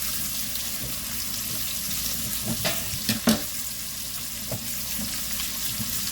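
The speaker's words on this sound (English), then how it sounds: "Stir my vegetables around." Vegetables fry in a pan with a loud, steady hiss throughout, broken by a few soft knocks and scrapes as they are stirred around, close up with no talking.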